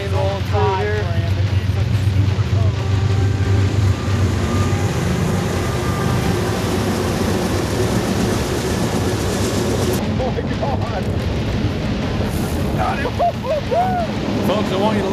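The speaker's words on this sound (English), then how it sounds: "We got the train rolling through here." A train rolls past continuously, a loud, steady rumble and clatter close by throughout, heard near water during fishing, with people talking faintly underneath.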